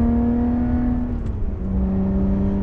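A Lotus Evora 400 engine revs in its loud exhaust mode, a strong, close engine note that dips and then climbs again, heard alone without talk.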